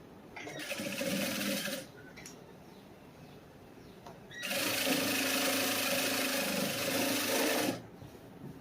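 A sewing machine stitches the front part of a cross-cut blouse in two bursts of rapid, even whirring, the longer second one after a quiet pause.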